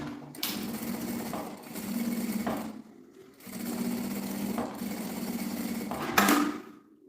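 A sewing machine runs two bursts of stitching along a fabric seam, a close, rapid whirring chatter with a brief pause between runs and a sharp click near the end.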